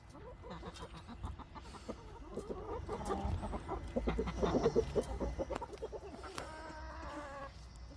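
Chickens cluck and murmur in a backyard coop on a spring morning, several birds close by with overlapping calls that swell in the middle and ease off toward the end.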